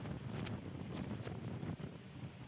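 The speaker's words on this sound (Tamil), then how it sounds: "காத்து செம பிச்சுக்கிட்டு போச்சுங்க" Strong mountain wind in the Western Ghats, near a drinking-water dam, gusting hard against the microphone, a dense roaring rumble that swells and dips without pause.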